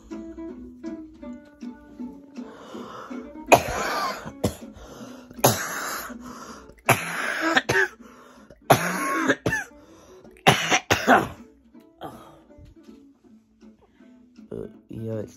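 A person coughs repeatedly in harsh, rasping bursts, several fits spaced a second or two apart, close and loud, with some throat clearing and quiet breathing between.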